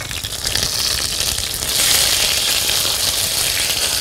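Duck breasts frying in a pan give a steady, close, loud sizzle with crackling spatter that swells slightly midway and carries on without pause.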